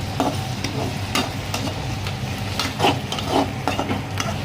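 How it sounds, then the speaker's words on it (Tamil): Ginger and garlic sautéing with onions in a hot pan for vegetable fried rice, with a steady oil sizzle and repeated stirring scrapes of a spatula against the pan. "தேவையான அளவு இஞ்சி பூண்டு போட்டுக்கோங்க. அடுத்த வதக்கிக்கோங்க."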